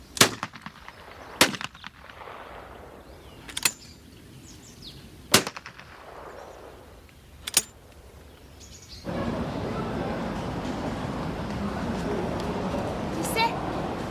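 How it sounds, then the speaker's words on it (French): Gunfire at a target, with several sharp, well-spaced single shots ringing out over a quiet background before a steady broadband noise takes over near the end. "chaque fois que la balle touche la cible"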